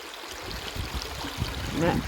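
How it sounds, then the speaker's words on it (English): Shallow water of the Petawawa River spills over a small dam in a steady, rushing, nearby flow that stays even throughout, with a faint voice briefly audible near the end. "This little bit of a fall over this dam is noisy, but soothing noise."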